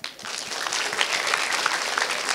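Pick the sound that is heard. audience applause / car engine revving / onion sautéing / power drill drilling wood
audience applause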